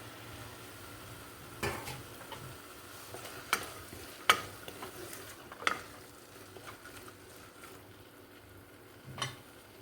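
Mixed vegetables such as beans, carrot, capsicum and potato stir-fried for vegetable pulao, with a quiet sizzle and a few scattered clinks and scrapes of a spoon against the pot.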